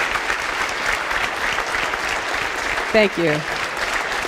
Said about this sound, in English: I think we should give Rosa one more applause